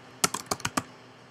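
A quick burst of five keystrokes on a computer keyboard while entering a Linux server command, crisp close clicks followed by quiet.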